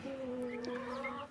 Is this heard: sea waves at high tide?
no